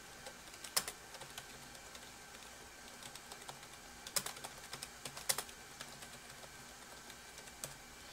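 Typing on a computer keyboard to enter a Linux command, with quick irregular key clicks and a few sharper taps, fairly close, over a steady background hiss and hum.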